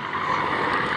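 A Merlin 70 series engine of about 1,655 horsepower powers an aircraft flying fairly far off at an air show, giving a steady, smooth propeller drone that holds even for a moment with no talk.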